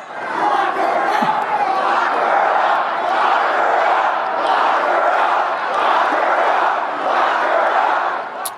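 A dense Trump rally crowd chants 'Lock her up' in unison, a loud, sustained rhythmic roar of many voices filling the whole stretch.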